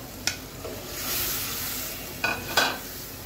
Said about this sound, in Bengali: এখন জাস্ট ডালটাকেও মশলার সাথে কষিয়ে নেব